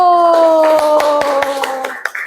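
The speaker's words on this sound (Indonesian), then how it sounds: "Tepuk tangan buat kelompok 1." A classroom of students claps for a group after their experiment presentation, scattered sharp claps over a sustained tone, fading out after about two seconds.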